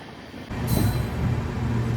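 A fast passenger train on the Hubballi line near Gadag gives a steady, close rolling rumble with a brief hiss of air, heard from on board and without talk.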